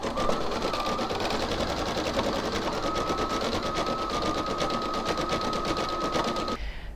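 A sewing machine stitches embroidery in a fast, continuous mechanical whir with a steady high hum, close and even, then stops abruptly near the end.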